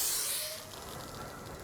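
Coca-Cola can opened, gas rushing out in a loud sharp hiss that settles into a steadier fizzing sound for over a second, close and alone.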